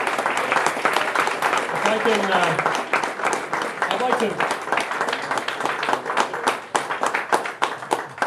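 Audience applause at a policy forum, a steady wash of many hands clapping that fills the whole stretch, with a speaker's voice briefly heard over it near the start.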